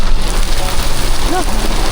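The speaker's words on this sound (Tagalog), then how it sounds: "Lakas ng ulan" Heavy rain pours steadily at a beach resort, a dense loud hiss of drops on surfaces filling the whole moment without a break.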